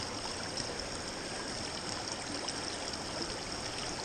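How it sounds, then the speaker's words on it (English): Water runs steadily through a gold sluice, a continuous close rushing and trickling flow with no break and no voices. "The sluice is running quite well."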